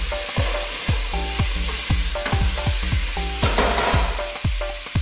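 Sautéed onions and pea soup ingredients sizzle in a pan while a spoon stirs quickly, giving rapid repeated scraping knocks over a constant frying hiss, close and loud with no talking.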